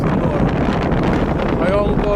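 Strong stormy wind buffets the microphone over a small river where a little fishing boat rocks, a loud continuous roar and rumble with no break.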